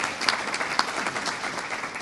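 Brief burst of applause from a business luncheon crowd for chamber of commerce staff, dense steady clapping with a few sharper individual claps standing out, no speech over it.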